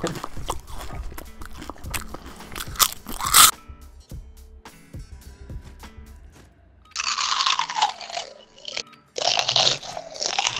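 Crunching and chewing on crisp chips, with loud bursts of bites in the first few seconds, then quieter stretches, followed by game sounds in a Call of Duty: Modern Warfare match.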